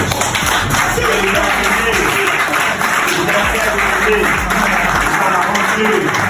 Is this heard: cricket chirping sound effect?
no